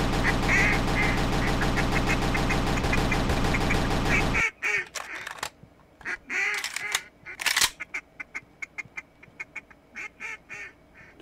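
Ducks and geese calling in a bird hunting video game, with a dense chorus of quacks and honks for the first four seconds, then scattered calls and clicks close by.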